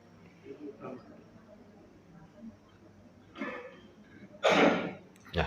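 A man clears his throat and coughs during a religious lecture, with a few short harsh bursts near the end, the loudest toward the close, over a quiet room.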